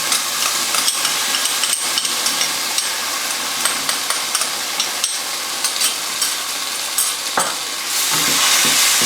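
Ginger-garlic and tomato paste for a restaurant-style chicken balti hitting a very hot pan, a loud, hissing sizzle with sharp metallic stirring knocks throughout, swelling to a fuller roar near the end, no voices.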